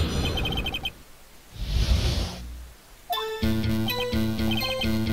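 A bird witness squawks in the Phoenix Wright courtroom video game: harsh, chirpy electronic cries come in short bursts, then give way to bright game music with chiming tones.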